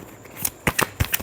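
Tarot cards riffled and tapped in a quick final shuffle, several crisp close snaps and flutters over about a second.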